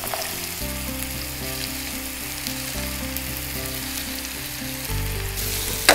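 Shelled broad beans (chikkudukaya) go into a chicken curry frying in a pan, giving a steady, close sizzle that holds throughout, with a low tonal hum alongside.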